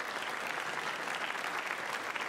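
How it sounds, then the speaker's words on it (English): Steady audience applause fills the room at an Australian cricket awards ceremony, a dense, even patter of many hands that sustains throughout without pause. "Round of applause for Alicia Healy."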